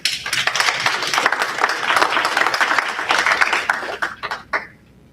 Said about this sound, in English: once again, you just hear another round of applause.